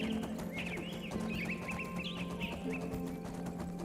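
A horse in a video game, with repeated hoof clip-clops and a whinny-like call over a steady background bed of game sound.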